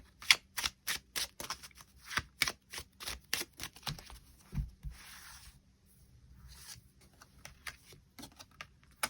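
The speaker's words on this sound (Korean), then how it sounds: "9번 분들 추가 카드로 일별로 월요일부터 일요일까지 어떤 하루를 보내게 될지 추가 카드 뽑아보도록 하겠습니다" Tarot cards are shuffled and drawn, a quick run of sharp, close riffling snaps over the first few seconds followed by softer, sparser card sounds and slides.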